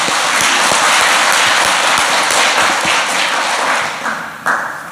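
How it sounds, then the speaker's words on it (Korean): A seminar audience at a Korean Christian seniors' association event gives a speaker a warm welcome with sustained applause, loud and dense, with a few heavier thumps, tapering off near the end. "박수로 환영해 주시기 바랍니다."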